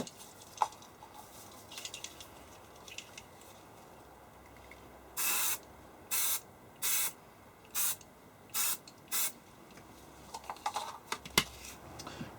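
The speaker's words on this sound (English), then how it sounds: "I'm going to use some flux spray" Six short bursts of flux spray hiss from an aerosol can onto a homemade copper circuit board, each about half a second long, loud and close, with quiet handling clicks before and after.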